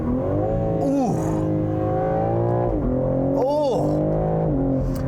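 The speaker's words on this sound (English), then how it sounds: "Listen to this engine too." A 2021 BMW M3 Competition engine drones and revs loudly inside the cabin, partly fake sound piped through the speakers, rising and falling with throttle blips and gear changes while someone talks over it.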